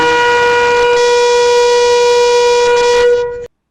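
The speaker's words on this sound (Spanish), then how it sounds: "Tequía, la explosión o el toque, que es un sonido claro extendido como de trompeta" A shofar sounds the tekiah, one long clear steady blast with a bright horn-like tone that holds loud for about three seconds and then cuts off abruptly.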